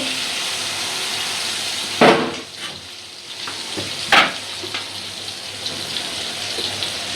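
Koi fish crisp-frying in hot oil, a steady close sizzle with two sharp louder spatters partway through and no one talking.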